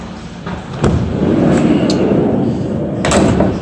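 Sliding side door of a 2017 Ram ProMaster cargo van, a loud rolling rumble with a sharp thud near the start and another clunk toward the end, heard close up without talk.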